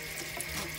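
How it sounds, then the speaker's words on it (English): Running tap water rinses something under the faucet, a steady, even splashing hiss that stays close and moderately loud throughout the brief moment, with no talking. "I'm just going to rinse this off and let it sit here until I get ready for it"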